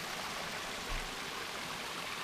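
Fresh, clear water pours steadily into a small catch basin at a mine, a soft continuous rushing stream at low level, with a faint thump near the middle.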